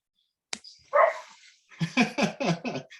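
Young puppy with pointed-up ears at an indoor dog event, letting out a faint whimper and then a quick burst of four or five small yapping barks, close and fairly quiet.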